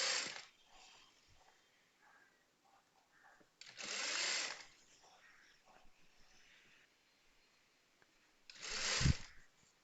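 A sewing machine stitches a petticoat hem in short bursts, three close, fairly loud whirring runs separated by quieter pauses with faint handling noises.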